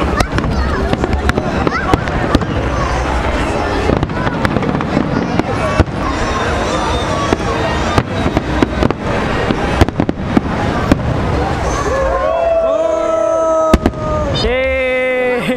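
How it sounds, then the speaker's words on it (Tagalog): Rapid fireworks crackle and pop continuously at a distance, with people chatting nearby and a few whistling rockets near the end. "Ayan ayun na yung fireworks narinig ko na"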